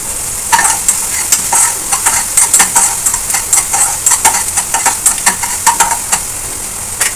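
Salted onions frying in a pan while a utensil stirs them, giving quick, repeated scraping and clinking strokes over a bright sizzle, loud and close.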